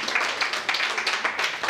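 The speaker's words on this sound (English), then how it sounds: "Please give a round warm of applause to Julia Jordan" An audience gives a warm round of applause for Julia Jordan, steady close clapping with no talk.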